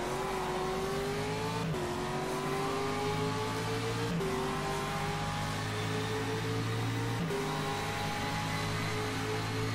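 Race car engine in the rFactor 2 sim racing game, a steady loud drone with rising revs and brief dips at gear shifts, running alone throughout.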